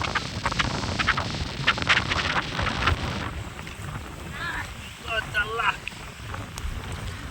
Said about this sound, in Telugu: కానీ ఇక్కడైతే ఎక్కువ గాలి